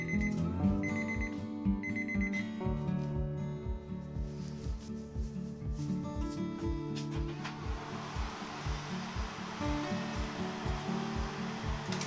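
A kitchen oven timer alarm rings loud and close in a steady, repeating electronic beep pattern, continuing for several seconds with a hissing noise rising behind it later on.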